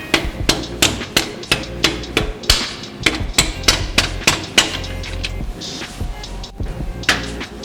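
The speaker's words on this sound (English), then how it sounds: "we're going to have to tap it from the other side to get it to come through" A hammer taps repeatedly on the swing arm pivot bolt of a Honda CB750 motorcycle, sharp metallic knocks in a steady rapid rhythm, close and loud with no talking.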